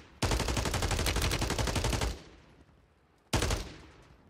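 MP5 submachine gun in Warzone 3 rips out a sustained loud automatic burst of about two seconds, then a brief pause before a second short burst, with no talking.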